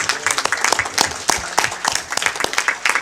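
Audience at a planning council meeting breaks into lively applause, dense rapid clapping from many hands, loud and close, sustained for a few seconds.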